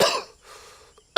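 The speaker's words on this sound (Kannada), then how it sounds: "ಸಾರಿ ಕೆಮ್ಮು ಹುಷಾರಿಲ್ಲ" A single loud, sharp cough bursts out near the end, following fading speech and a stretch of quiet room noise, heard close to the microphone.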